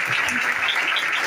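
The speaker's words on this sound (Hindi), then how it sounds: "और जोरदार तालियां खुदावंद के जलाल के लिए बजाएंगे।" Worshippers at a church service clap together in a dense, continuous burst of applause, loud and close, heard briefly with voices mixed in.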